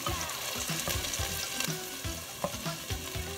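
Red bell peppers stir-fried in a pan for gallo pinto, a close steady sizzle with repeated scraping stirs of a utensil in a quick rhythm, no talk.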